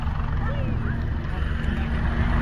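Black Cats display team helicopters flying a paired routine at the RAF Cosford Airshow 2025, heard as a steady, loud low rotor rumble that fills the whole stretch, with faint crowd or commentary voices underneath.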